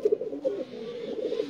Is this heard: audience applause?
no